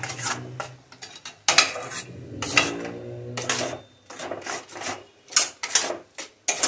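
Ginger and jaggery mixture stirred in a pan over medium heat, a spoon scraping and clinking against the metal in repeated bursts with short pauses, close and fairly loud.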